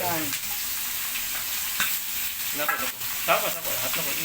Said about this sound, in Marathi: पहिले करली फ्राय कर